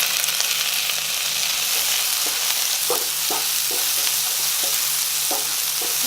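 Onion, chili, garlic, ginger and tomato sautéing in a pan give a loud, continuous sizzle, broken by a string of short scraping stirs, with no voices.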